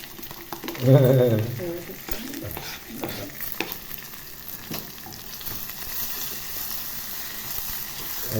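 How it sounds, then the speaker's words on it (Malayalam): Onions frying with ginger-garlic paste in a pan for a spicy sardine curry, a steady low sizzle with spoon stirring scrapes, under a brief voice near the start. "ഉള്ളി നല്ലോണം വാടട്ടെ വാടട്ടെ"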